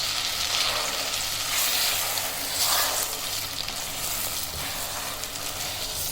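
Starch halwa batter is stirred in a pan over a low flame, producing a steady, close, hissing sizzle with soft scraping and bubbling that barely changes throughout.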